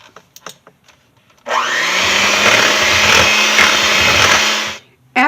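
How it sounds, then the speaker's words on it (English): An electric mixer whirs steadily through banana pudding ingredients for about three seconds, a loud, close, continuous motor drone that starts abruptly and cuts off, with faint kitchen clatter before it. "I'm going to use an electric mixer and mix this for 1 minute."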